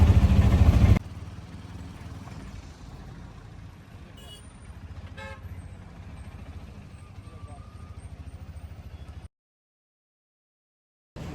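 Riding inside an auto rickshaw through the streets of Ongole: a steady engine drone and road rumble, with light rattles along the way, before it cuts briefly to silence near the end.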